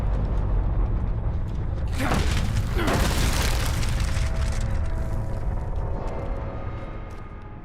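A flashbang goes off in a multiplayer video game, a loud boom with a broad rushing burst that swells and then slowly decays over several seconds, with steady game noise underneath.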